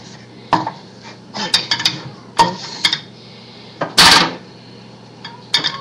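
A wooden spoon working through stiff homemade playdough in a pot, with irregular knocks and scrapes against the pot's sides and a louder clattering burst midway, no talking.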